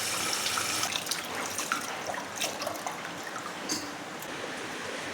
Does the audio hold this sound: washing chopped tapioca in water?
yes